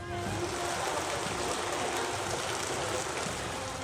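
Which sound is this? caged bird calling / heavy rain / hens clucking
heavy rain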